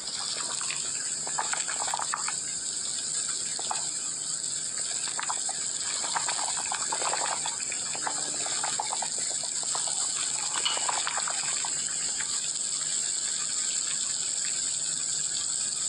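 Chicken pakora fries in hot white oil with a dense, unbroken bubbling hiss and crackle. The sound holds steady and fairly close throughout, with no voices.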